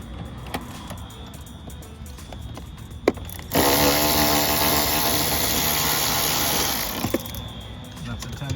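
A power tool spins loose a 10 mm bolt under the seat bottom of a W213 Mercedes E-Class: a loud, steady whir of about three and a half seconds, set against quieter shop noise, brief clicks and nearby talk.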